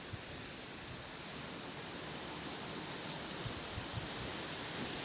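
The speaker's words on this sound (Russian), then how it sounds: "Какой ветер." Strong hurricane-force wind from Cyclone Martin roars as a dense, steady rush of noise with slight gusty swells, loud and unbroken, with no speech.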